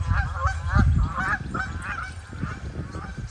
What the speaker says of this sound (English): that goose was behind the tree over here